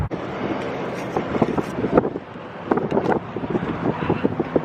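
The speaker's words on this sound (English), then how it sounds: "It's too windy." Heavy wind buffeting the microphone, a constant roaring rumble with irregular gusty thumps and crackles throughout.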